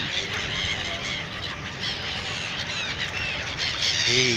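A flock of birds squawking continuously at the Triveni Sangam river confluence in Allahabad, a dense overlapping chorus of harsh cries, with a few louder calls standing out near the end.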